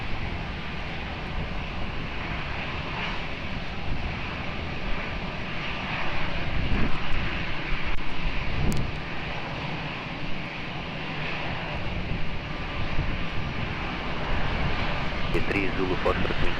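A fixed-wing airliner takes off from runway 20 at Lisbon Airport with a loud, sustained engine roar that swells in the middle, and tower radio talk runs over it.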